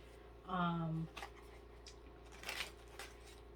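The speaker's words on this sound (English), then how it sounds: "Quick shuffle." A brief vocal sound, then soft papery riffling bursts as a Zodiac 108 tarot deck is quickly shuffled, fairly close and quiet.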